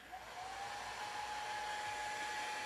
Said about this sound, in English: I am going to use the hairdryer here. Might be a little loud.